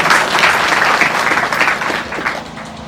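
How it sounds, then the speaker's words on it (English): At a company get-together, a room of guests breaks into lively clapping that is loud at first and gradually tapers off, with a few voices mixed in. "Clap for yourself."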